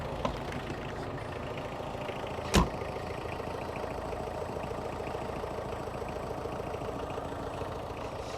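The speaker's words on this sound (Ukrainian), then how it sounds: "Так, завівся тракторець без проблем." A Mitsubishi MT 367 tractor engine idles throughout with an even low rumble, broken by one brief sharp click partway through; no voices.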